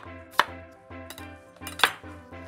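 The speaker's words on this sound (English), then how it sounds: "we can just cut that into half moons or big chunks" A knife cuts cucumber into half moons on a board, with two crisp, loud chops among softer rhythmic slicing strokes, no talking, and faint music in the background.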